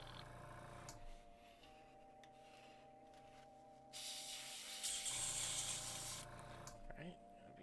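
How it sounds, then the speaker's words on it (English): An airbrush sprays water through its nozzle to rinse out orange paint, a hissing burst of spray rising over a low background hum and lasting about two seconds before it cuts off. "Just be spraying some water through it now."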